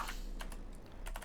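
Computer keyboard typing in short bursts of clicks, with a brief flurry at the start, a pair of taps in the middle and a final quick cluster, close and clear over a low steady hum, with no talking.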